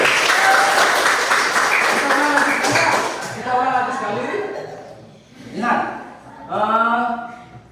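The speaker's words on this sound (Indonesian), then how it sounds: "Kita tepuk tangan dulu." A class claps together in a loud burst of applause that fades into speech and a few scattered claps.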